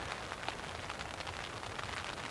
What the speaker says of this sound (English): The rain has arrived.